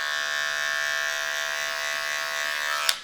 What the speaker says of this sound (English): I'm gonna grab my clipper, no guard, and just start really detailing it with the corners.